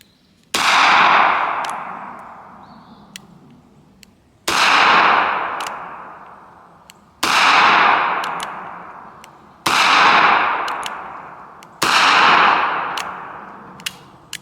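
Taurus Judge Magnum revolver firing 45 Colt and 410 rounds outdoors, five loud sharp shots spaced a few seconds apart, each followed by a long fading echo.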